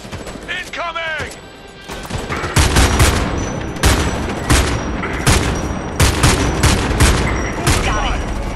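Rapid gunfire and weapons bursts from the Homefront 2 video game, loud and dense with repeated sharp shots and booms, with voices shouting briefly near the start.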